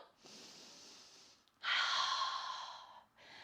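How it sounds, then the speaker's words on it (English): Slow, deliberate breaths pushed out through the mouth during a gentle yoga class: a long, soft exhale, a short pause, then a louder, airier one, close up with no talking. "Breathing out of the mouth."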